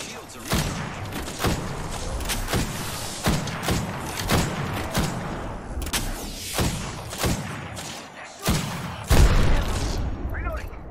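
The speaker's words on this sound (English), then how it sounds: "You're shooting at me." Rapid gunfire from weapons in Apex Legends, a game match, with loud bursts of repeated shots and heavy thuds that come close together throughout. A voice speaks over the shooting.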